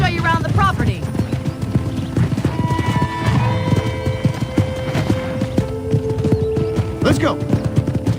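Horse hooves clip-clop in the video game Red Dead Redemption, a steady walking rhythm of hoof falls close by with a whinny near the start, while characters talk over them.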